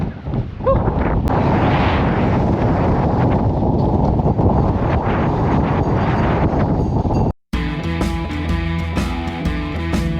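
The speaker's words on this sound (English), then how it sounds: "with a 20-mile-an-hour wind with 30-mile gusts coming from behind us" Strong, roaring wind of 20 mph with 30 mph gusts on a seaside promenade at Hunstanton buffets the microphone in a steady heavy rush, with brief gust surges; after a short drop it gives way to a different tonal, rumbling sound.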